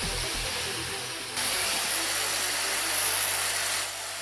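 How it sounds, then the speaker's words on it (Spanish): A 220-volt, 800-watt angle grinder runs steadily, powered from a homemade generator: a continuous close whirring drone with a bright high hiss that shifts in level partway through. "Vamos a conectar también una amoladora angular que funciona a 220 voltios"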